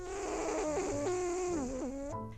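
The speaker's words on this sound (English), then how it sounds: "It's just hearing snoring and breathing all day." Pug dogs snore and breathe nearby in a faint, nasal, wheezy rattle with wavering pitch, several breaths in quick succession without any talk.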